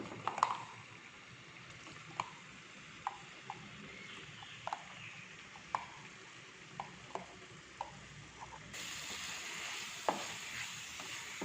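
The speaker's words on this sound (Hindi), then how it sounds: "पैन में जस्ट 2 टेबलस्पून घी ऐड करके अब जो मैरिनेट किया हुआ चिकन था उसे स्टर फ्राई कर लेंगे।" Marinated chicken stir-fries in ghee over a high flame, giving a quiet, continuous sizzle punctuated by sharp, sporadic clicks of a utensil striking the pan.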